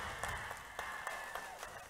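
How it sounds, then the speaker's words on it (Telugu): Crowd of party workers at a BJP political rally clapping in welcome, a dense continuous applause with sharper claps standing out, heard from close amid the mass. "రెండు చేతులను చప్పట్ల ద్వారా వారికి స్వాగతం పలుకుతామన్న అమిత్ షా గారికి"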